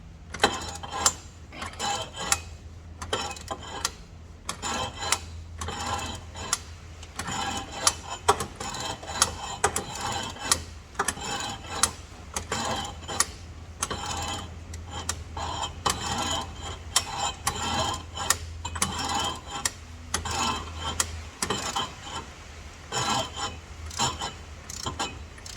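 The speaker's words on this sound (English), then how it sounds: "trying to change the direction of my ratchet" Ratchet clicking on a Jaguar F-Type while removing the crank pulley near the radiator fan: quick, rhythmic metallic ticks in repeated bursts, close up, with a steady low hum underneath and no talk.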